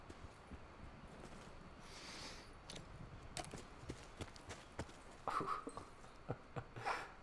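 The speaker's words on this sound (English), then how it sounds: "Oh, I hear footsteps, man." Footsteps in the Call of Duty Black Ops 4 Blackout battle royale video game, a run of soft repeated steps with sharp transient hits over a low, steady game ambience.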